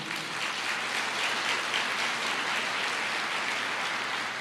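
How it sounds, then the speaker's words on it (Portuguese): A church congregation claps steadily for several seconds, a dense, even wash of applause without voices. "Pode aplaudir."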